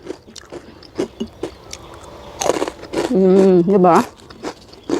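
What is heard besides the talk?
biting crispy moringa leaf crackers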